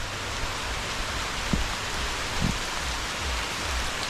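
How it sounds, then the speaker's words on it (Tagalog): Heavy rain pours down in a steady, dense hiss over a banana plantation, with a couple of brief low thumps. "simula kanina umaga, ngayon lang umulan ng ganito kalakas"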